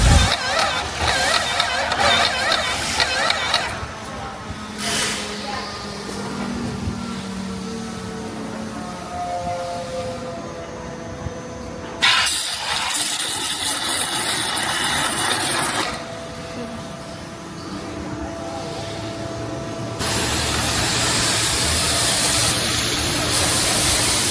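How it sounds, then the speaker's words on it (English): An EA988HS machine runs during a water test, giving a mechanical whir with tonal hums and ratcheting clicks, interrupted by sudden shifts and ending in a loud broadband spray-like hiss. "just enjoy the original voice of our machine"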